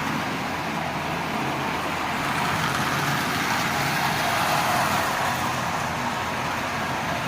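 Marx 999 tin litho toy train runs steadily on its track, a continuous even whirring and rattling hum that holds at the same level throughout with no talking.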